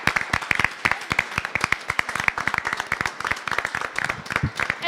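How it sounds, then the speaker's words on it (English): A school board meeting audience claps for a retired U.S. Army veteran and ROTC instructor, a fairly small group producing distinct, sharp hand claps in an uneven steady patter. "So let's give them a round of applause."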